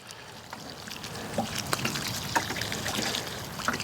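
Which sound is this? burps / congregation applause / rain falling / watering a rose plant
watering a rose plant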